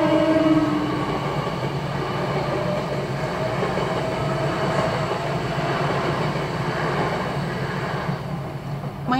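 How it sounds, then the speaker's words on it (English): A full-length train bound for London rumbles steadily past a level crossing, a continuous loud rolling and rail noise that holds for several seconds before easing slightly at the end. "My train going to London."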